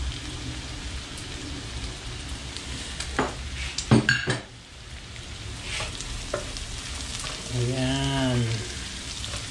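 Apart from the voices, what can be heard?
garlic and onion frying in a pan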